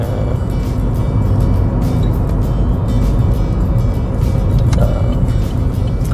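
A driving-test car rolls slowly in first gear through a stop and U-turn, giving a steady, loud, close engine and road rumble with a constant drone and no clear change in pace.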